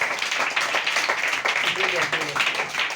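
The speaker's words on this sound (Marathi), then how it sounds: "प्रथमेश शिंदेसाठी टाळ्या वाजव जोरदार" A group of children applauds Prathamesh Shinde, their scattered, uneven clapping running under a voice that keeps talking over it.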